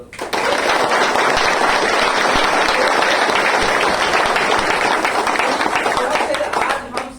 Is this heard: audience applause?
yes